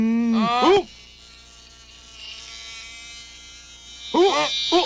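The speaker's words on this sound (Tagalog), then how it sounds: "Isang bubuyog! Lagot!" A bee buzzes with a steady, fairly loud drone through the middle of the scene, while high, animated cartoon-like voices speak before and after it.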